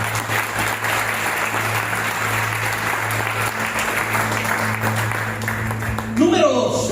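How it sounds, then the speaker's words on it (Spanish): A church congregation claps together in a steady, even wash of applause, with a low hum running underneath, before the clapping thins out and a voice breaks in at the very end. "¿Qué tal se aplaude el Señor por esto?"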